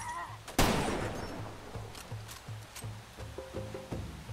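A single sharp, loud sniper rifle shot in Far Cry 2 cracks out close by, then a long decaying echo fades into a jungle backdrop of scattered faint thumps and rhythmic ambient rumbles.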